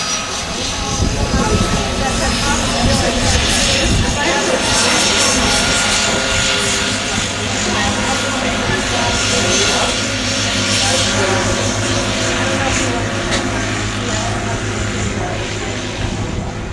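Airplane engine drone in the cabin during a flight, a loud continuous low roar with steady hum, heard close throughout while people talk over it.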